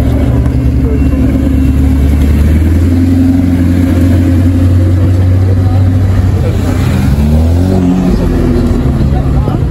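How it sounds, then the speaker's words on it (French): An Audi R8 engine at a car meet in a supermarket parking lot, rumbling loudly and continuously with a deep, swelling roar, while people talk nearby throughout. "la R8 elle résonne très fort là-bas, l'autre R8"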